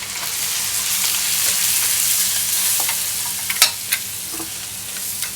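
Flour being stirred into a pot for mulligatawny soup over low heat, a steady soft scraping and sizzling that runs throughout, with a few brief louder clinks of a utensil near the end.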